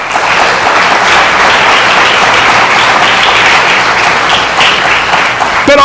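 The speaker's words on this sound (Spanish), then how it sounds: "Dele un aplauso" A church congregation bursts into sustained applause at a worship service, a dense, steady wash of many hands clapping at close range that holds loud and even for several seconds with no talk over it.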